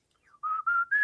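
A short whistled melody from the 1987 film Spaceballs, mimicking the Bridge on the River Kwai march, comes as three clear sustained notes rising slightly in pitch, close and loud, with no talking.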